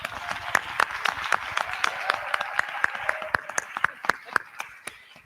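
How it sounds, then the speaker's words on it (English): Applause from a conference audience at an HIV stigma session, a steady wash of many hands with sharper individual claps standing out, continuous and moderately loud throughout. "One more round of applause for GNP Plus."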